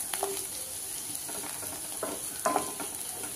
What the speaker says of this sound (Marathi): व्यवस्थित कांदा आपल्याला परतून घ्यायचा आहे, मिक्स करत करत।